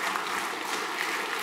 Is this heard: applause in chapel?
yes